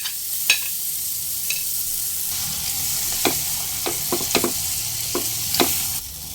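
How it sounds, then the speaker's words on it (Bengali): Mashed pointed gourd (potol) paste, added with nigella seeds, fries in hot oil for a Bengali bharta, giving a steady loud sizzle with scattered crackles and pops and no talking. "ওই গরম তেলের মধ্যেই দুই পিস কালো জিরে দিয়ে দিলাম এবার বেটে রাখা সব পটলের পেস্টগুলো দিয়ে দিলাম"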